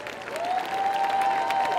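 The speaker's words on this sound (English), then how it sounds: "Let's give them a round of applause." Graduation audience at Eagle Academy for Young Men II applauding, broad crowd clapping and faint cheers, brief and fairly loud, with a sustained tone running through it.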